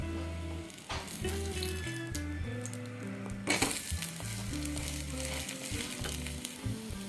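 Instant lentil dosa sizzles in oil on a hot pan right after being flipped: a steady, close frying hiss runs throughout beneath a prominent background music bed.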